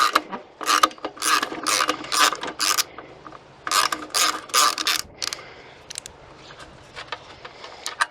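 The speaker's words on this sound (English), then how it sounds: "Just remove the bolts. Just a 10mm socket." Ratchet with a 10mm socket loosening the stepped-head bolts that hold the fuel tank on a Honda Trail CT110 motorcycle: repeated bursts of fast, close pawl clicking with short pauses between strokes, then quieter, steadier ratcheting toward the end.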